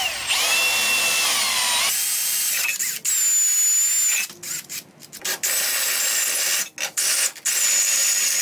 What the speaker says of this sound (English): But first, we need to do our holes in the top here.